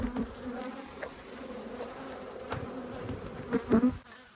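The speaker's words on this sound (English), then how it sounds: "Fair bit of traffic at the entrance here, but I think it's probably just some stray bees from the hive next door." Honey bees at a hive entrance in an apiary hum in a steady, close buzz, with individual bees droning louder as they fly past the microphone.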